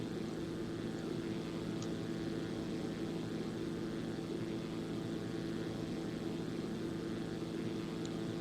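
Steady drone of a Zlin Z-142 propeller aircraft engine during a landing approach to Courchevel in X-Plane 11, a continuous loud hum with strong low tones that stays even throughout, no talking.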